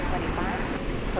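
An airliner approaching at DFW International Airport, a steady broadband roar of jet engines filling the air, loud and continuous over a brief moment.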